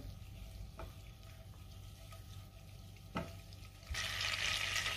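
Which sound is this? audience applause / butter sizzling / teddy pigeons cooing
butter sizzling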